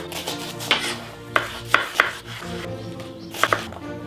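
A knife dices a white onion into cubes on a cutting board while Bolognese vegetables are being prepared, giving a run of sharp, close chopping taps in uneven bursts, each with a bright clack against the board.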